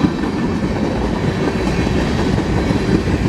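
A freight train with triple distributed power units rolls past close by: a loud, steady rumble and clatter of wagons that holds unbroken throughout, with no voices.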